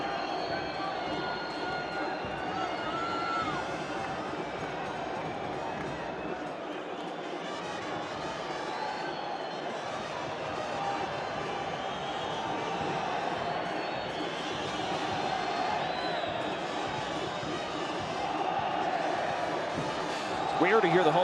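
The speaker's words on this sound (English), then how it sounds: "Rare to hear the home fans shouting "Olé" for the other team passing it around" Home crowd at an El Salvador versus Suriname Concacaf World Cup qualifying football match shouting "Olé" in chorus, a dense, steady stadium roar filling the whole stretch, with a commentator's voice running over it.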